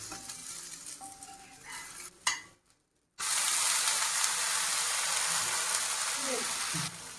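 Wheat dosa sizzling on a hot pan as it is loosened and flipped, a steady loud frying hiss with scraping, broken by a brief near-silent pause before the sizzle returns strongly.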